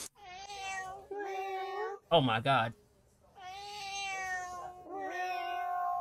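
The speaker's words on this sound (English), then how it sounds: "is that a fat cat?" Fat cat meowing in long, drawn-out, loud yowls, several in sequence with harmonic wails, interrupted by a brief exclaiming voice in the middle.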